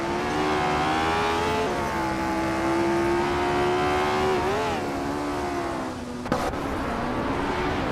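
Racing-game engines from a 1965 BRM P261 and a 1965 Cooper T77 whine steadily, with a sustained tonal drone that shifts pitch on gear changes and a brief dip near the end, no talk.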